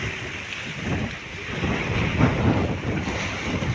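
Wind blows steadily across open sea during stormy weather, a continuous broadband rush with low buffeting gusts on the microphone, no voices.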